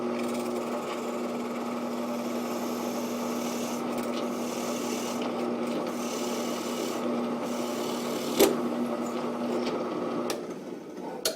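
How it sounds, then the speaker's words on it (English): A drill press boring out a lanyard tube hole in a wooden knife handle, a steady grinding whir with a raspy cutting texture throughout, close and continuous, with a couple of small clicks near the end. "I'm going to drill the lanyard tube out."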